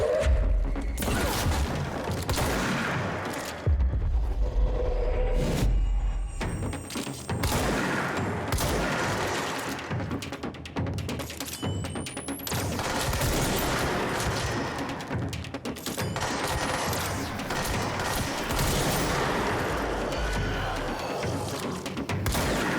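Gunfire in the video game Control, repeated bursts of shots and booming impacts across a long stretch of combat, loud and continuous with crashes and thuds mixed in, no talking.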